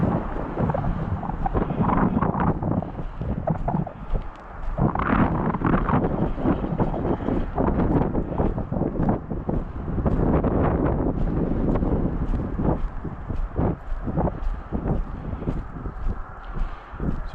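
Strong wind buffeting the microphone during a five-mile roadside walk in Maine, loud continuous low roaring gusts that rise and fall throughout, with no talking heard.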